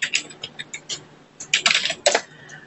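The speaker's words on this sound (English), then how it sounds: "don't mind my typing slower than my brain works" Fast, uneven typing on a computer keyboard during a business call, with bursts of crisp key clicks that cluster and pause, close and clear with no talking over it.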